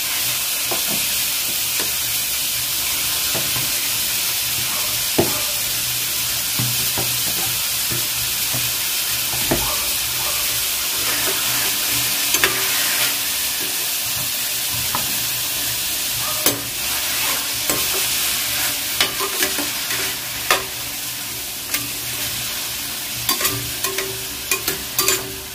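Chicken breast frying in a pan with browned onion and garlic gives a loud, constant sizzle, broken up by sharp utensil scrapes and clinks that grow more frequent toward the end.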